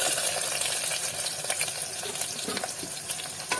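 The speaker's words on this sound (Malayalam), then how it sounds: "ഈ എണ്ണയിൽ നന്നായിട്ടൊന്ന് മൂത്ത് വന്നിട്ട് നമുക്ക് എന്ത് ചെയ്യാം നമ്മൾ അരിഞ്ഞു വെച്ച വലിയ ഉള്ളിക്കേക്കാം" Chopped large onions dropped into hot oil for a chicken curry: a close, steady crackling sizzle with light stirring scrapes that runs throughout.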